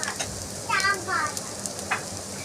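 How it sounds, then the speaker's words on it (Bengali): Onion and chopped green chilli fry in a pan for prawn pulao, giving a steady soft sizzle with a few brief stirring scrapes rising above the hiss. "পেঁয়াজটা ভেজে নিলাম,"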